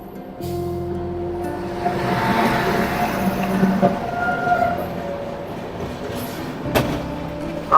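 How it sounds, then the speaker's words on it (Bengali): The 12442 New Delhi–Bilaspur Rajdhani Express rolls past with a steady rail rumble and wheel clatter, tonal whines rising and fading over several seconds, heard without speech. "এখন আপনারা দেখবেন 12442 নিউ দিল্লি বিলাসপুর রাজধানী এক্সপ্রেস।"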